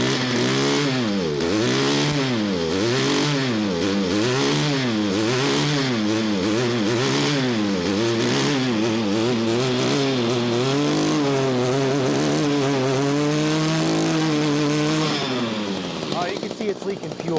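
An Echo two-stroke weedwacker engine with a fuel leak runs loud and close, its buzzing pitch rising and falling in repeated revs before settling to a steadier drone and cutting out near the end.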